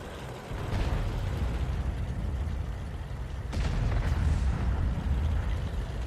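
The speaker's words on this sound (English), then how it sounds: "He's firing a few rounds in now." Tank cannon fire in the World of Tanks video game, heard as a dull low boom within a steady rumbling engine and battle din, with a second sharper crack partway through.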